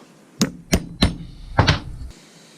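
Four sharp metallic hammer strikes on a center punch marking metal for drilling, close up, the first three evenly spaced and the last a quick double tap, then silence.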